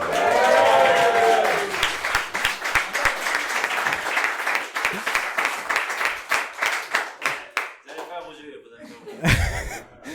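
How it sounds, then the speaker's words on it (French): Café audience applauding and cheering as a guest walks in, dense clapping with chuckles and laughter that thins into scattered claps and talk, close and lively. "On applaudit Jean-Philippe qui rentre dans le café."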